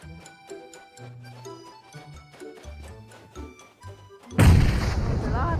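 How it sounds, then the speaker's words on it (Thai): A grenade explodes in the PUBG Mobile video game after a run of sparse ticking, plucked game sounds, bursting into a loud, sudden boom whose rumble carries on to the end. "ไปโยนระเบิดมา"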